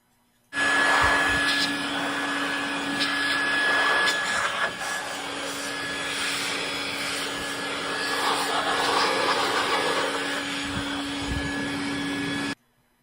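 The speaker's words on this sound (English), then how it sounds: "I moved the hose of the vacuum to the other side so that it's blowing, and you can see it blowing dust out" A vacuum cleaner switched to blower mode with its hose moved to the exhaust side, blowing out dust. It is a steady whining drone with a strong tonal hum that starts abruptly, runs evenly for about twelve seconds, then cuts off.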